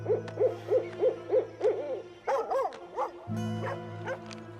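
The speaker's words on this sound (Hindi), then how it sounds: "वहाँ पर एक उल्लू घूम रहा है" Rhythmic series of low owl-like hoots from a large owl, repeated about a second apart, followed by brighter yelping barks from a dog and a steady low drone beneath, all fairly close in an outdoor setting.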